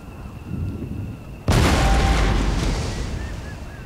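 Artillery salvo in the Napoleonic-era strategy game Empire: Total War: a loud, deep boom erupts suddenly, then a long rolling rumble and crackle slowly decays, with faint whistles near the end.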